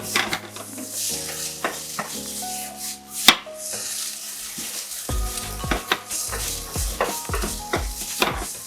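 Chorizo sauteing in a pan, with a low sizzle under frequent spatula scrapes, clatters and knocks of utensil on cookware, close and irregular throughout.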